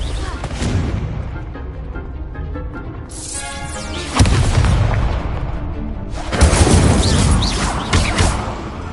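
Confringo blasting spells explode in a Harry Potter video game, heavy booming blasts with crashing debris, one striking about halfway through and another soon after, each trailing into rumbling noise.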